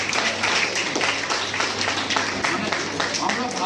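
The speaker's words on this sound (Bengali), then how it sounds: "বাচ্চাদের জন্য একটা হাততালি দিন প্রচন্ড জোরে" An audience at a theatre workshop claps for the children, a steady run of rapid, fairly close handclaps sustained throughout.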